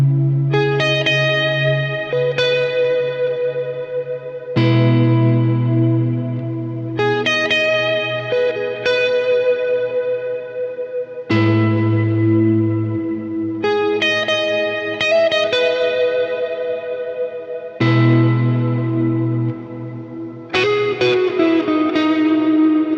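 Electric guitar chords ring out one at a time through a cloud reverb effect, each left to sustain with a long reverb tail, separated by short pauses and occasional picked notes.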